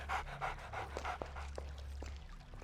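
A dog in the Arx Fatalis game pants in quick, rhythmic breaths, close and moderately loud, over a low steady hum with a few faint clicks and no speech.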